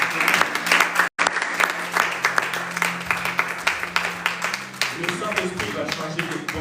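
Church congregation applauding during a service, a dense, continuous wash of clapping from many hands that stays loud throughout, with a brief dropout near the start, and voices mixed in.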